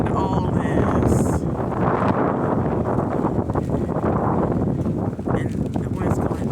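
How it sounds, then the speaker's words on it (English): Wind blows hard against the microphone with a loud, rough roar during snow flurries outdoors, and people talk over it throughout. "And the wind's going that"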